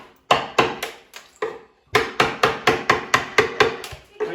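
A hammer drives a chisel into kitchen wall plaster in a run of sharp, evenly spaced knocks, a short burst and then a longer steady series after a pause, close and alone.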